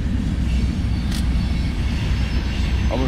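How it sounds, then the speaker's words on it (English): A train rolls past at night along a railroad, a steady loud low rumble filling the whole stretch, with a brief hiss partway through and a faint squeal near the end. "it is like 2:20 a.m. first train going south"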